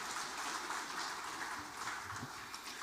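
Church congregation applauding during a Sunday worship service, a steady, dense wash of clapping that fills the whole stretch evenly at moderate level, with no voices standing out.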